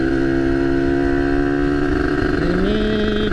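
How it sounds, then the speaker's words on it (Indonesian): A Kawasaki Ninja motorcycle engine warming up, a loud steady two-stroke drone held close up, its pitch stepping up slightly near the end as the revs rise. "Oke, malam ini gua riding lagi sambil manasin motor juga."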